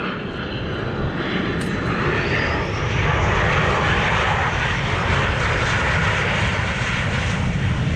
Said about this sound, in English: No tail hook on these airplanes because we're going to land on a runway.